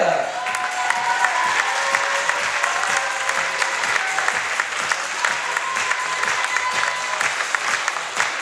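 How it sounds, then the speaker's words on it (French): An audience gives a thunderous ovation to a choreographer at a dance show's final presentation in Port Camargue, sustained loud clapping with some cheering and a faint voice or music tone rising briefly above the crowd. "Je vous demande un tonnerre d'applaudissements, une ovation pour votre régisseuse, chorégraphe, Mademoiselle Candy"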